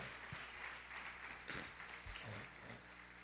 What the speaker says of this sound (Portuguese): Quem quer aplaudir mais forte